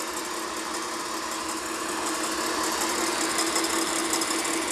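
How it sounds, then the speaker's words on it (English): An electric mixer whisks egg whites to a foam for chocolate soufflés, a loud, steady motor whir that holds without a break from start to finish, with no voices. "Not every electric mixer goes as fast as the others."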